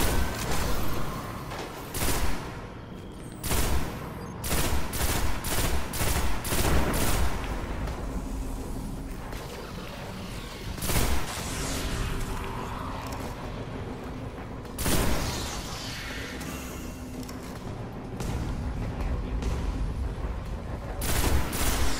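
Enemy gunfire in the sci-fi shooter game Destiny during a Hunter campaign mission, heavy bursts of automatic fire and explosive booms in repeated loud volleys with brief gaps, sustained over a long stretch.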